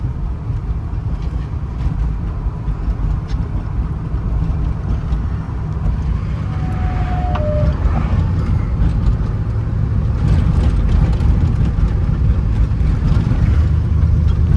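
A 1979 Pontiac Trans Am with a 6.6 L V8, T-tops and matching numbers, driving slowly; a steady deep engine rumble with road noise holds close and loud throughout.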